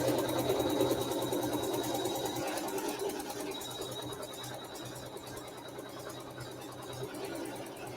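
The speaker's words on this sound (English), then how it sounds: "it's also going to sew a placement stitch for where we're going to put our little fleet or our flange" An embroidery machine stitches a tack-down placement line, a steady fast mechanical whir with rapid needle chatter running continuously throughout at moderate level, with no talking.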